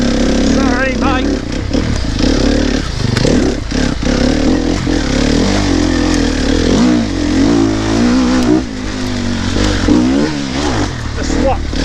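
Enduro motorcycle engine on a dirt trail, revving up and down continuously and close by, with a person talking over the engine throughout.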